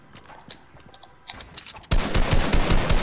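Rapid bursts of video game gunfire crackle loudly and nearly nonstop in the second half, following quieter scattered clicks and shots at the start.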